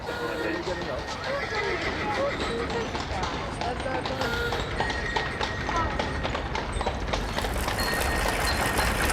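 A shire horse's hooves clop steadily over slippery cobbles while pulling a cart, the clatter continuous and fairly close under a dense background of street noise.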